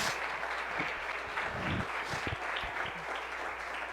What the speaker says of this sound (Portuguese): Dá uma salva de palmas e glorifica o nome de Jesus